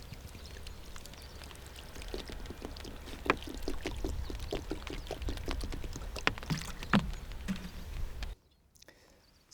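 Water poured onto highly permeable volcanic soil on Jeju Island at a managed aquifer recharge site, a continuous splashing wash with scattered drips and gurgles, close and moderately quiet, cutting off abruptly near the end.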